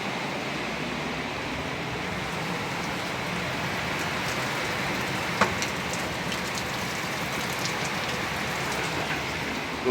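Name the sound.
rain falling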